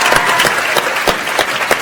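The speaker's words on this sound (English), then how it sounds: "Come and share in the applause." A festival audience at a science-communication final claps for the finalists, a brief burst of dense, lively applause close and loud.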